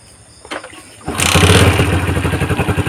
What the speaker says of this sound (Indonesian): Ini mesin hidup ya